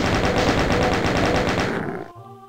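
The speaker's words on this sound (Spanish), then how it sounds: "aquí lo bueno es la ametralladora" A chaingun fires in The Ultimate Doom, a loud, rapid, evenly spaced burst of game gunfire that runs steadily for about two seconds before cutting off into quieter game sound.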